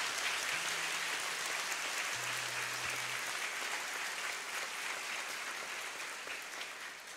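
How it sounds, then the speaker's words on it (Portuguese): Faint, distant applause from a religious gathering honoring Our Lady, a steady wash of clapping from a crowd that slowly tapers off toward the end. "Pode aplaudir a tua mãe, a beleza por excelência."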